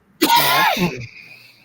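A single sharp sneeze or explosive throat burst, close and loud, fading quickly into quiet.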